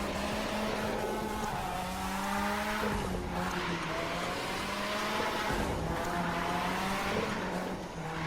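In The Crew 2, a car drifts around a Las Vegas track. Its engine holds a steady, droning note while the tires squeal over it in long, wavering swells, with no voices.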